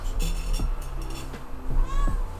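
A pet cat meows several times in a row, short nearby calls over quiet room sound, with a brief voice in the background.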